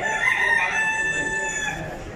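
A market area where live chickens and ducks are sold, with a rooster's crow ringing out clearly over steady crowd noise and clucking fowl, loud and continuous across the whole stretch.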